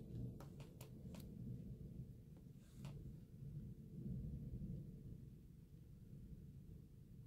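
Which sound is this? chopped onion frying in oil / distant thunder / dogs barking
distant thunder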